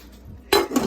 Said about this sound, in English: I'm gonna cover it with the top